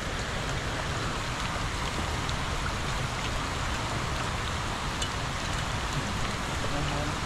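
Steady rain pours down outdoors at a red tilapia pond, a dense even hiss of drops on water and surfaces that holds constant throughout, with no voices over it.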